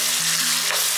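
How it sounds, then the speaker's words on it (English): Garlic chutney stirred in a hot pan gives a loud, close, continuous sizzle with a brief scrape of the spoon partway through. "Give it a nice mix."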